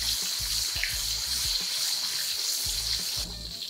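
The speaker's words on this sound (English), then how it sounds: "And you're gonna fry these until they're golden brown." Trini bake dough frying in hot oil, a steady crackling sizzle with regular low bubbling pulses throughout, close and continuous with no talk.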